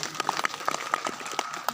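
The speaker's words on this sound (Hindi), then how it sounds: "ताली बजा लो अपने लिए।" Brief scattered clapping from an audience at a Bhagwat Katha religious discourse, a few sharp claps close together in an uneven rhythm, fairly close and moderately loud.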